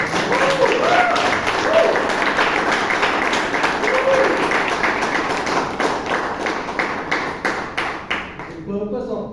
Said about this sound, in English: Can we have a round of applause for Toastmaster Vivek Vijay?